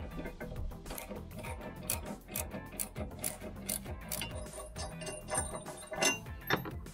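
A nut being tightened with an 18 mm wrench while a shredder machine is assembled, giving fast, rhythmic metallic ratcheting clicks that continue steadily up close, with no talking.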